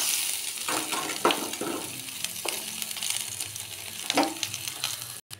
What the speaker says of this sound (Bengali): ওই তেলেই একে একে তেজপাতা, শুকনো লঙ্কা, পাঁচফোড়ন, পেঁয়াজ,